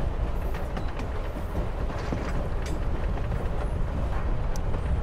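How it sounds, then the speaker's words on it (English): A train rolls along in the video game Life is Strange: Before the Storm, a steady, moderately quiet rumble with faint rattling clicks and creaks of the wagons throughout, no talking. "Guess we're not the first ones to hop on this train."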